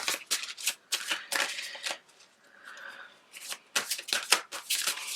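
Tarot cards being shuffled by hand, quick papery riffles and flutters in bursts, close and fairly soft, with a brief lull in the middle before the shuffling resumes.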